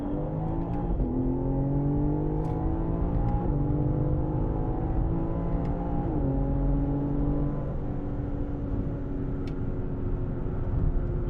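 BMW M car accelerating uphill on the Sonoma Raceway track, a sustained engine drone with rising gear tones and a shift partway through, heard steadily from inside without talk.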